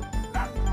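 A polar sled dog barks in a couple of quick close yaps, with a short gap between them, each loud and sharp.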